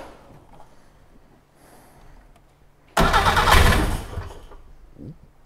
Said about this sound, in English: it seems to be turning over quite cheerfully